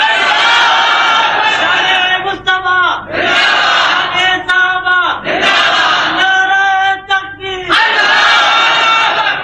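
A large mosque congregation at a Friday sermon chants the takbir slogan back in unison, loud, massed voices rising in repeated waves with brief gaps between each call.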